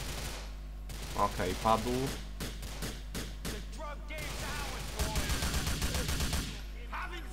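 Bursts of game gunfire in Grand Theft Auto IV ring out in rapid volleys, with someone talking over the shooting and a denser, sustained stretch of shots toward the end.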